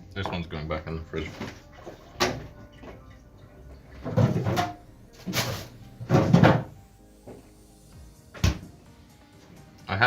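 Several short thuds and clunks from a kitchen fridge door being opened and shut, heard amid cooking clatter while someone talks intermittently nearby.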